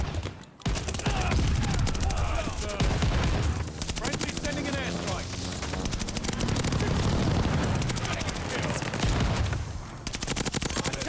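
Automaton rifle fire in Call of Duty Vanguard multiplayer, rapid bursts of automatic gunshots with booming explosions mixed in, loud and near, with a player talking over the shooting.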